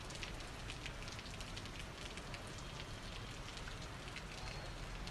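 Steady rain falls in Ahmedabad under cloudy skies as a continuous faint hiss with no clear breaks.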